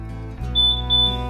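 Car key remote locator chirp in a parking lot, a high electronic beep sounding twice in quick succession over a low steady hum, close and fairly loud.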